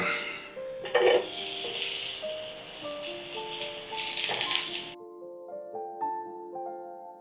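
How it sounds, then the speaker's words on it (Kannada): Bitter gourd roasts on a tawa with a soft, continuous sizzle and light stirring scrapes for several seconds, then cuts off abruptly into a quiet tail with faint tonal ringing. "ಹಾಗಲಕಾಯಿನ ಲೈಟಾಗಿ ಹುರ್ಕೊಳ್ಳೋಣ"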